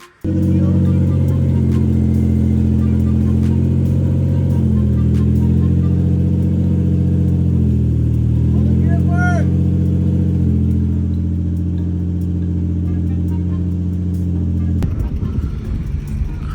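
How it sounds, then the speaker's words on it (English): A Lexus GS300 fitted with a swapped manual gearbox drives with a loud, close engine drone that holds steady, dips and climbs in pitch as it revs, then ends in an abrupt burst of noise. "So it looks like I'm driving the car now."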